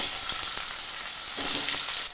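Boiled, cut potatoes fry in white oil in a wok, a steady bright sizzle with brief soft clicks of stirring, close and unbroken with no voices.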